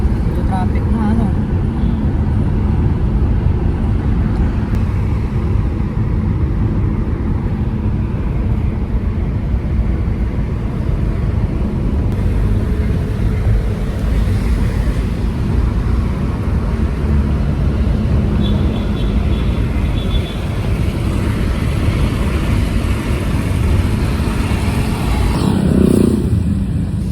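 Steady roar of heavy car and motorcycle traffic on EDSA, a dense continuous rumble with passing engines, loud and close throughout while someone talks over it.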